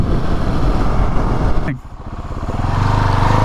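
KTM 690 SMCR single-cylinder motorcycle engine revving hard, then briefly dropping off before building again; loud, close and continuous.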